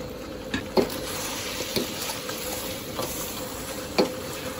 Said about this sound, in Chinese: 加入芝麻， 搅拌均匀